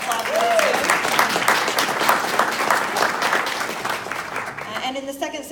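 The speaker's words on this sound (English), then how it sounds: "Quick round of applause for those two." Audience applause at a live political podcast recording at a festival, a broad crowd clapping densely and steadily, tapering slightly toward the end as a voice briefly cuts in.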